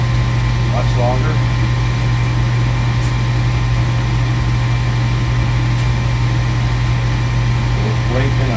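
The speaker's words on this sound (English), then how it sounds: "Induction motor seems to be running longer than it did before, much longer." A furnace induction motor runs on and on while the furnace fails to light and blinks a fault code, giving a loud, steady low hum with droning overtones and faint voices underneath.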